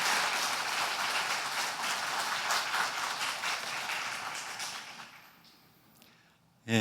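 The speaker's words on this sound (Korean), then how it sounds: "박수로 우리 선교사님 초청하겠습니다." A church congregation claps to welcome a missionary to Kenya at an afternoon worship service, a dense, moderately loud applause that fades out after a few seconds, leaving near silence and a brief bump at the end.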